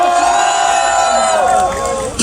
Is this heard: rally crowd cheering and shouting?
yes